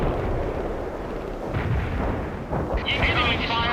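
Heavy artillery fire rumbles continuously in the World in Conflict strategy game, dense booming battle noise with distant blasts and a voice calling out over the din.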